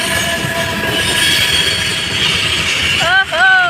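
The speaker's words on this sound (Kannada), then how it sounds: "ಟ್ರೈನ್ ಸ್ಪೀಡ್ ಇರ್ತವೆ, ಯಾವಾಗ ಏನಾಯ್ತು ಗೊತ್ತಿರಲ್ಲ" A fast train rushes past at speed, a loud steady roar of rail noise with metallic wheel squeal rising near the end, close to the track.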